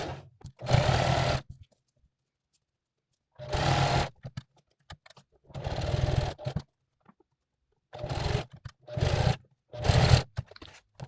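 A sewing machine stitches nylon webbing onto a fabric pouch in several short bursts of rapid mechanical rattling, separated by quiet pauses, loud and close with no talking.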